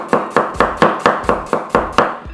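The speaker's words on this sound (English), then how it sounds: "I'm just going to completely finish this off now. Chop those up." A knife chops through two medium onions on a board for a sweet potato side dish, with nine crisp evenly spaced strikes in a steady rhythm, loud and close.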